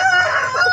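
A Rhode Island Red Dark Mahogany rooster crows once, a loud, close, harmonic cock-a-doodle-doo filling a brief moment.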